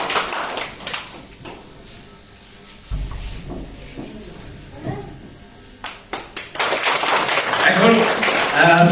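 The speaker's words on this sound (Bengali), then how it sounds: "জুড়ে একটা করতালি হবে।" An audience claps at a college freshers' welcome ceremony as a celebrity guest is garlanded. Scattered claps and taps under a voice build into louder, denser applause near the end.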